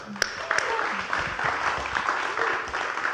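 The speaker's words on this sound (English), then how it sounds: "Let's give her a round of applause." Audience applause following a speaker at the Rise & Record 2023 event, moderately loud and continuous with a few sharper claps and some voices mixed in.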